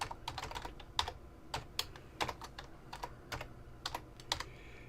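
Code is typed on a computer keyboard in quick, uneven bursts of crisp close key clicks with short pauses between them, quiet and alone.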